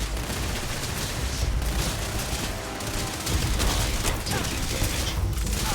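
Gunfire in the Starfield video game rattles in dense bursts, loud and continuous with a noisy wash of shots and booms filling the whole stretch.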